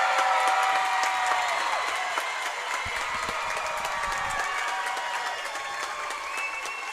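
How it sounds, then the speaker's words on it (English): Loud basketball crowd at a high school district tournament final cheers and applauds steadily after a late foul call, a dense wash of clapping and shouting that holds for the whole stretch. "Listen to that crowd."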